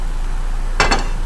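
A plate is set down on a cutting board in a home kitchen, giving two quick, close ceramic clacks a moment apart against a quiet background.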